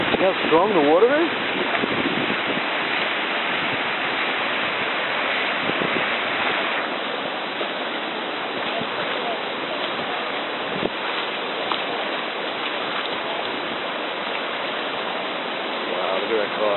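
Strong floodwater rushes continuously during Hurricane Irene in Monroe, New York, a steady broadband roar with wind buffeting the microphone and a voice talking over it.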